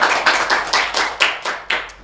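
An audience clapping in unison at a school talk event, about eight evenly spaced loud claps in a steady rhythm, close and clear with no talking.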